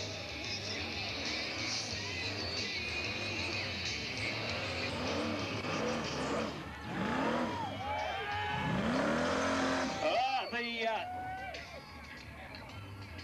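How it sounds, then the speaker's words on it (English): A big block LS Monaro does a burnout at a club event, its loud engine roaring steadily as the tires skid and squeal, with the revs rising and falling. A commentator talks over it. "Good skid."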